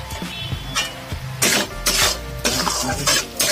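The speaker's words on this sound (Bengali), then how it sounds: "গ্যাসের ফ্লেমটা কমিয়ে রেখে ভালো করে মশলাটা কষিয়ে নিচ্ছি।" Spices with chilli powder and sugar are stirred and sautéed in a pan over a low gas flame, with scraping strokes and soft sizzling coming in rhythmic bursts, close and clear.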